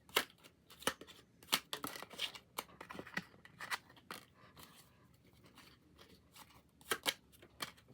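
Uno cards shuffled for a tarot-style reading, heard as a series of crisp riffling and slapping bursts, some close together and some spread apart, with quiet pauses between them and no voices.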